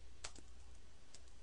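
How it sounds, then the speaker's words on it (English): A few quick clicks on a computer keyboard while typing text, close but soft, with a low steady hum underneath. "Now if we click at the end here and start typing"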